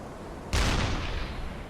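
A deck gun on a submarine in the UBOAT naval game fires a single loud, close blast at a ship, with a sharp onset and a long rumbling decay.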